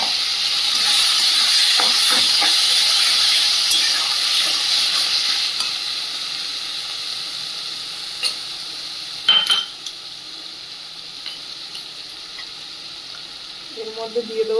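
Shrimp frying in a pan with oil, black cumin and a ground spice paste, a loud steady sizzle and hiss that fades after a few seconds, with occasional utensil clinks and stirring scrapes near the end.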